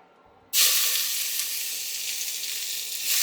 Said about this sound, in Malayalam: ഇനി നമുക്കതിലേക്ക് കുറച്ച് സവോള കൂടി വറുക്കാനായിട്ടേ